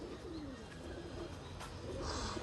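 Pigeons coo softly in low, rolling calls on a rooftop against a quiet background, with a faint chirp near the end.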